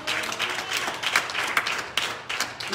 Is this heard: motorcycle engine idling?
no